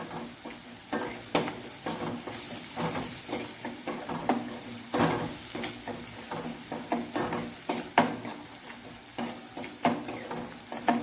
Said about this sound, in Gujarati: ડુંગળી બ્રાઉન કલરની થઈ જાય ત્યાં સુધી આપણે સાતડી લઈશું